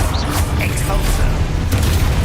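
A loud, booming blast from the Exposo explosion spell being cast in Hogwarts Legacy, a dense burst of sound packed into a couple of seconds with mechanical clatter around it.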